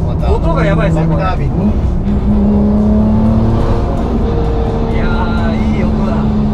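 A 650-horsepower Toyota Supra JZA80 with a 2JZ engine and a TO4Z full-turbine kit revs hard from inside the cabin. A loud, steady engine roar rises and falls through gears while people talk over it.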